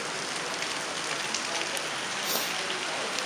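Steady rain falls in Surat, a dense, even hiss of drops on surfaces that stays constant from start to finish with no voices.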